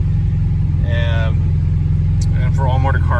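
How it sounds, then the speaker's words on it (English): A naturally aspirated Honda engine drones steadily with a low rumble throughout, rising pitch in brief revs, while a person talks over it. "This is the fastest revving Honda I've had"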